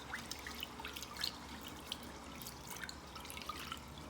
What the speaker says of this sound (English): use this pot to rinse under cold tap water for 3 times